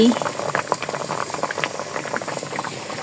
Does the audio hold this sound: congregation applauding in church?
no